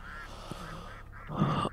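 In a video game, a duck gives a short honking quack near the end, preceded by a softer call, with no talk over it.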